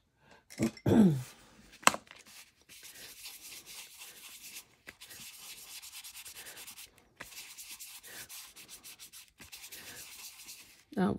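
A worn emery board rubs back and forth across a coaster surface being roughed up, giving soft, close scratchy strokes in several bursts with brief pauses and a couple of small bumps at the start.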